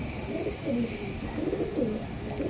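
Pakistani pigeons coo softly in a loft in Purba Bardhaman, low throaty rolling calls repeating under a steady background hum, fairly close but not loud.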